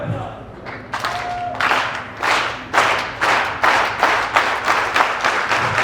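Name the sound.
audience clapping at a real estate event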